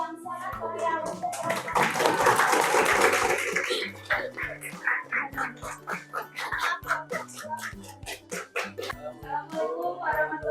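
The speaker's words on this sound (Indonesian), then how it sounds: "tepuk tangan yang sangat meriah" A classroom group claps briefly and loudly, then the clapping fades into children's voices talking, with sharp clap transients scattered under the chatter.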